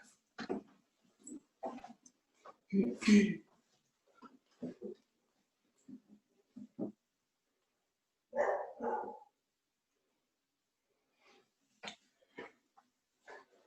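A dog indoors during a home yoga session giving scattered short barks, grunts and snorts, faint to moderate, spread irregularly across a quiet room with long pauses between.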